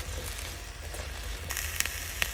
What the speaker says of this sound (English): we want to add our vegetables first and our pineapple